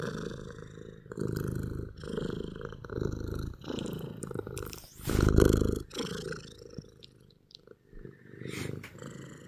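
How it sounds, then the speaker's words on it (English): Close, rumbling cat purr that swells and fades in long rhythmic cycles, loud and continuous, with no talking. "Listen to that purr."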